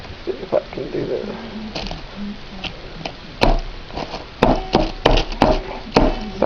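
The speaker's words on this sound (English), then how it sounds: "I am banging it on the side of the crock pot because I'm doing this one-handed." Utensil knocking against the side of a crock pot while bacon goes in for slow-cooker spicy black-eyed peas, a series of sharp close taps and bangs that grow more frequent toward the end.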